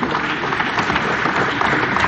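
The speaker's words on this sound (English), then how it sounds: "So can I please hear a big round of applause for Mr." A big round of applause fills an Indian sports academy event as a crowd welcomes a guest on stage, dense and continuous with no gaps.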